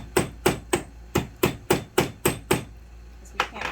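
A weight is used as a makeshift hammer to knock a fitting into place on a boat: nine sharp, evenly spaced knocks in a steady rhythm, a short pause, then one final strike, close and loud.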